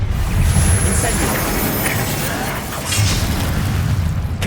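An Incendio fire spell blasting in a video game, a loud rumbling whoosh of flame that sustains for several seconds with a dense low boom, with a voice speaking over it.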